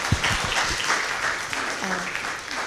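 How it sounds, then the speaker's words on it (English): A crowd applauds steadily throughout for the speakers at a public forum discussion, a dense wash of clapping filling a large room. "Can we give applause to all the speakers?"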